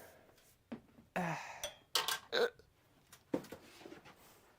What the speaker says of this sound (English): Hiccups and burps.